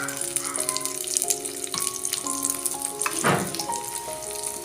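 Oil sizzles in a hot pan for protein dosa, swelling into a brief hissing burst partway through. Soft, sustained tones play in the background throughout.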